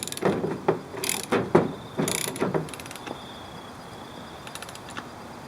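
A ratchet cranks a press to push a control arm bushing out, giving bursts of sharp clicking strokes in an uneven rhythm, close and loud, then fading to quieter mechanical ticks.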